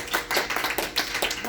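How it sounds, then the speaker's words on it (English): A church congregation claps together in quick, uneven bursts during a sermon, loud and close, filling the whole moment with no talking over it. "If you are blessed, clap, put your hands up to the Lord."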